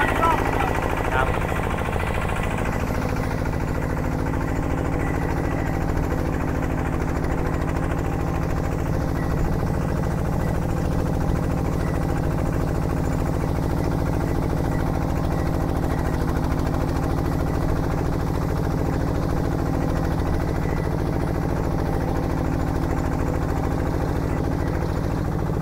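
An 18-horsepower BL-1 ULTRA walking tractor ploughs a field with a three-disc plough, its engine holding a loud, continuous drone close by throughout.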